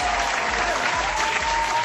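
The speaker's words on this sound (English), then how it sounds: "I'll give you an applause." A small group applauds steadily, a dense, even patter of hand claps with constant loudness across the short stretch, no speech over it.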